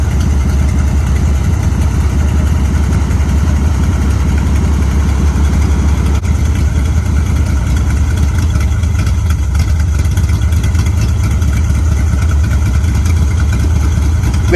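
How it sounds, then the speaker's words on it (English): A 1955 Dodge M152 truck engine idles loudly and steadily after a cold start, a close, continuous low-pitched chugging throb with no pauses throughout. "At last, the engine is running"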